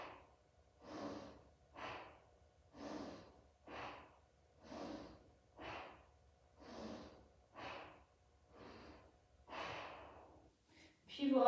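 Slow, deep breaths in and out during a pelvic tilt exercise, about ten soft airy cycles in a steady rhythm, close and fairly quiet, with no other sound between them.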